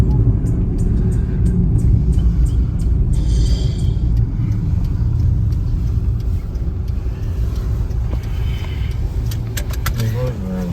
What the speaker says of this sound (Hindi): भाई ये गाड़ी जा रही है ना